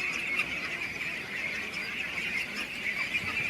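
Belgian ducklings on a duck farm peep continuously as a dense, high-pitched chorus, steady and fairly close, with no talking.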